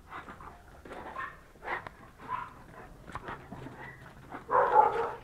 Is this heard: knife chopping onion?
no